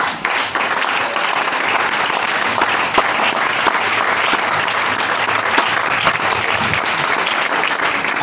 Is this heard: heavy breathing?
no